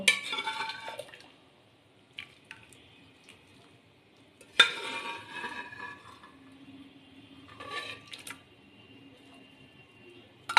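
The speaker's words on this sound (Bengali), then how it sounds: "এবার আমি এই সিদ্ধ করে নেওয়া ডালটাকে এই পাত্রের মধ্যে ঢেলে নেব।" Boiled chana dal lentils are poured into a pot, with clinks and scrapes of metal utensils against cookware and soft wet slops, in intermittent bursts separated by near silence.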